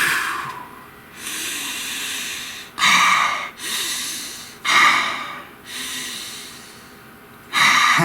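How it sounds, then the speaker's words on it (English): Several slow, deep breaths drawn in and let out close to the mic, each a long airy hiss with a sharp start, about four in eight seconds, with no talking. "Please take a nice deep breath."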